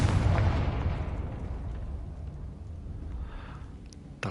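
The Confringo fire spell from the Hogwarts Legacy video game going off as a loud, booming explosion that rolls out and fades over several seconds into a low rumble, with no one talking.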